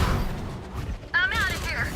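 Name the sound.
weapon reloading in the video game Valorant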